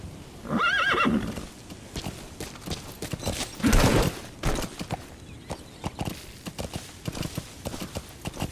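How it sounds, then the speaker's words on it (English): A horse in the video game Metal Gear Solid V: The Phantom Pain gives a clear whinny, followed by a thud and steady clip-clop of hooves moving at a walk. "Use your horse."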